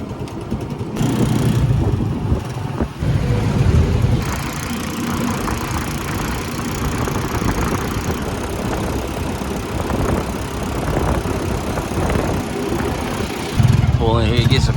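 A motor trike's engine runs steadily on a ride, a continuous rumbling drone with wind noise, while people talk over it throughout.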